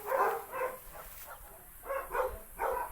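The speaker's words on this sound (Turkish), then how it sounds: "Köpekler içeride havlıyor." Several dogs bark in short bursts, muffled as if from inside a building, in two clusters with a brief pause between.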